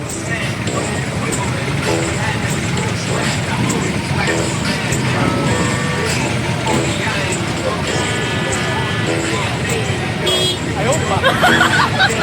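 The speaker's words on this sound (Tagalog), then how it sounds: "Grabe ang traffic dito sa may part ng Banlig ng Laguna." Dense road traffic at night near Banlig, Laguna, with engines rumbling and car horns tooting repeatedly in a continuous, loud, close-up wash, mixed with crowd babble and voices throughout.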